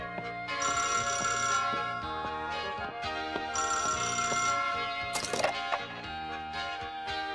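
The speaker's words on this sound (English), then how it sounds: "can't get anything done with the phone ringing all the time" A telephone bell rings repeatedly in steady bursts, loud and close, with a brief clatter partway through.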